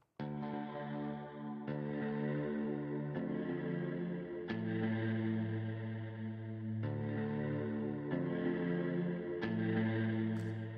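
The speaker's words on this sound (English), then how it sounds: "So really nice electric guitar sound here." A sustained electric guitar from the AudioModern SoundBox app on iPad with heavy effects, chords ringing with a shimmering chorus and slight distortion, changing every second or so, loud and continuous with no talking.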